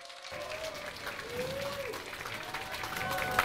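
A theatre audience at a stage show claps in a steady, dense burst of applause welcoming Ded Moroz, with a faint voice rising over the clapping.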